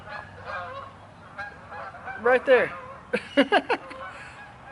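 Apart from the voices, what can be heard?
gaggle of geese or ducks honking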